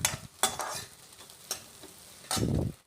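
Sliced onions and vertically cut capsicum stir-fry in a pan over fairly high flame, with a steady sizzle broken by several sharp scrapes and stirs of the spatula, close and moderately loud.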